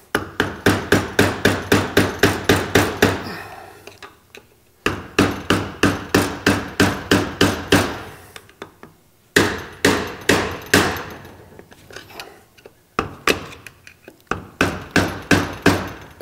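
Repeated sharp hammer strikes on a screwdriver prying a seal out of a 350 engine, delivered in quick bursts of rhythmic metallic taps with short pauses between sets, close and clear.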